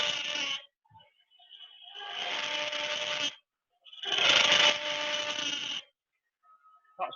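A lathe tool cuts the inside of a wooden goblet in three bursts of scraping, rasping noise separated by short pauses, with some chatter toward the end of the cut.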